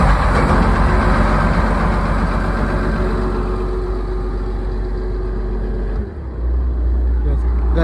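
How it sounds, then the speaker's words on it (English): Ship engine starting up and settling into an idle, a loud steady low rumble under a voice, with a brief dip and surge near the end as it comes up to idle. "Engine start."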